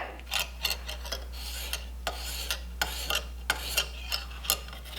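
A kitchen knife drawn along a medium grit sharpening stone for stock removal, giving a series of short, close scraping strokes in a steady rhythm, each a brief gritty rasp over a constant low hum.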